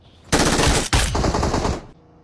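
Loud automatic machine gun fire in a video game, two sustained bursts of rapid shots with a brief gap between them, then quiet.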